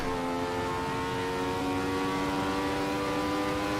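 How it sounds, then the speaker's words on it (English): A Ferrari 312T engine in a sim racing game at Imola holds a steady, sustained high-pitched drone for the whole stretch, with no voices over it. "I hope the Ferrari engine sounds okay though, at least."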